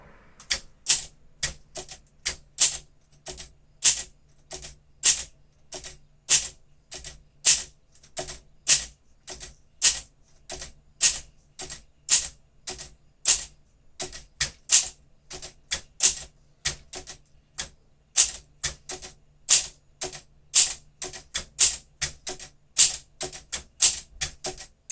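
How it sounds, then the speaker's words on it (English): A 1959 Olympia SM4 manual typewriter types characters in steady, rapid bursts of sharp close keystrokes with brief pauses between runs, clacking on alone with no voices throughout. "Finished typing test for a 1959 Olympia"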